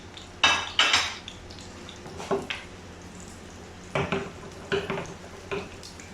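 Sliced onions cook in a pan for moong dal tadka while a metal spoon scrapes and clinks against it in several short bursts over a faint steady sizzle.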